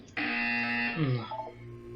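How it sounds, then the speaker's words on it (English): Buzzer in Portal 2 sounding once, a loud harsh electronic tone that holds steady for about a second before dropping and breaking off into a brief stuttering tail. "You will hear a buzzer."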